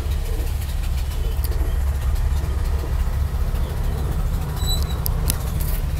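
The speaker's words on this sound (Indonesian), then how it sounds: "kalau nggak salah bahan bakarnya gas, mesinnya lebih halus" A gas-fuelled Bajaj auto-rickshaw idles at a red light, its engine a steady low rumble throughout, with faint traffic and brief higher noises from nearby vehicles.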